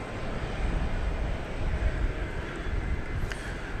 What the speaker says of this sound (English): There goes flight 2417. It's going to Mexico City. 737-900.